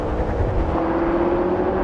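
BMW M5 pulling hard in a drag race, a steady loud engine roar heard from inside with a rising tone over the short burst.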